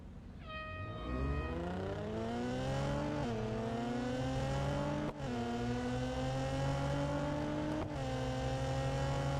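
Racing car engines in the mobile game Real Racing 3 roar steadily and close, revving up through the gears with rising whines and brief dips at each shift, loud and continuous without talk.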